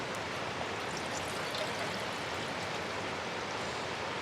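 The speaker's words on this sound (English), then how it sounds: "I'll pour some water on that." Water poured out during a backpacking trip along the Kern River, a steady broadband rush and splash that stays loud and unbroken throughout.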